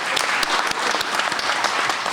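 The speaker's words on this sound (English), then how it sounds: "Big round of applause for the great work she's done." Audience at an arts awards ceremony giving a round of applause for a retiring music department head, loud dense clapping throughout, close and steady with no voices.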